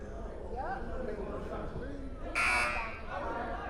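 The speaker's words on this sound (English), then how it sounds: "That was what the buzzer was for, an injury timeout" An arena buzzer at a Maximum Basketball League game blares once in a short, loud burst, sounding for an injury timeout while commentators talk over crowd noise.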